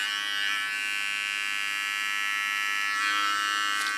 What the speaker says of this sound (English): With a small clipper I clean the contour once again